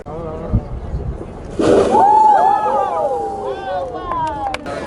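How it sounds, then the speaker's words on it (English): Water poured into a hot volcanic pit in a national park on Lanzarote bursts into steam with a sudden loud roaring whoosh that lingers and slowly fades, with wind buffeting the microphone and people talking over it. "He poured water down there to create steam, and then you saw it fly up."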